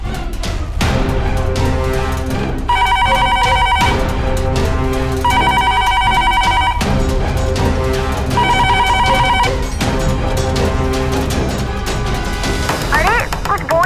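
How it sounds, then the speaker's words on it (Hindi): A telephone rings over and over in bursts of bright repeating tones, loud and close, laid over a dense dramatic music score with heavy low rumbles between the rings. "कौन फोन कर रहा है बार बार?"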